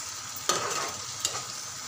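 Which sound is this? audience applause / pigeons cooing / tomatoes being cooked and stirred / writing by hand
tomatoes being cooked and stirred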